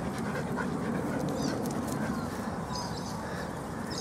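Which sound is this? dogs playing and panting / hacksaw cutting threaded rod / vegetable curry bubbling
dogs playing and panting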